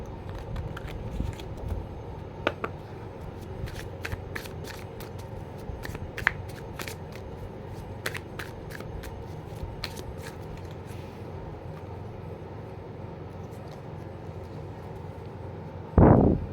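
A deck of cards being shuffled at close range, with repeated riffling bursts and soft shuffles over a steady low background hum, no voices, ending in a sharp louder rustle.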